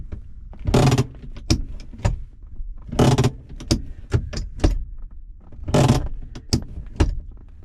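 Handbrake and cabin mechanism clicks inside a 2016 Jeep Wrangler Sahara Unlimited, with a series of sharp, close ratcheting snaps and clunks spaced irregularly amid quiet.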